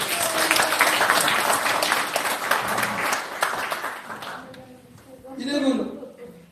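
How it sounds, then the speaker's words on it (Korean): Audience clapping at a taekwondo international cooperation agreement ceremony, a steady loud burst of applause for about four seconds that fades out, followed by a speaking voice. "저에게도 박수 한번 보내주십시오."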